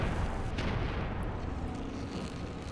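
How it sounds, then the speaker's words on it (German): Dull booming rumble of a bomb detonating in the video game Enclave, a dense low roar that swells at once and rolls on steadily for a few seconds with no voices. "Ich höre eine Bombe."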